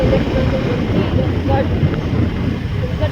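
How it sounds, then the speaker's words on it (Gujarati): Steady low wind rumble buffets the microphone outdoors among trees and green fields, a continuous blustery roar with no pauses. "હરિયાળી જેવી મસ્ત ઠંડો ઠંડો પવન."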